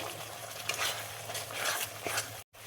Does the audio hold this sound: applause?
no